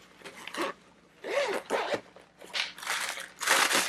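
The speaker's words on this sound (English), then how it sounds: "The zipper closure." A zipper is pulled in several quick, rasping strokes, with short pauses between them, close up and crisp.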